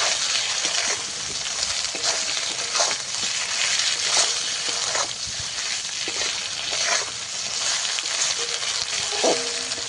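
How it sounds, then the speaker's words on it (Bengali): Ground pepper, ginger and cumin paste fries in hot oil, a dense, steady sizzle with crackling bursts and occasional stirring scrapes, close and loud throughout with no talking. "তেলের মধ্যে খানিক সময় ভেজে নেব।"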